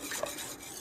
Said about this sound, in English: So you just want to stir, stir, stir.